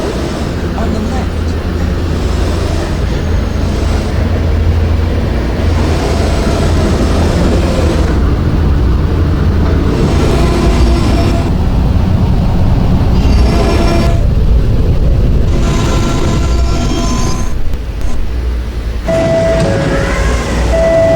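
Subway train in the PTA Subway video game, a continuous rumble of rolling wagons with rhythmic rail noise throughout, while recorded announcements play over it.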